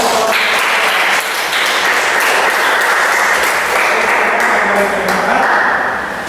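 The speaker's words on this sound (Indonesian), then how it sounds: "Oke, tepuk tangan" Sustained applause from a classroom audience after a group presentation, dense and steady clapping filling the whole stretch at close range with no break.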